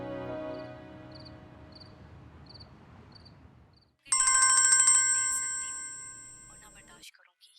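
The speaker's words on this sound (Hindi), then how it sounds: "फोन क्यों नहीं उठा रही?" Faint repeating chirps give way to a loud, close electronic phone ringtone that rings for a few seconds before cutting off, with a brief voice.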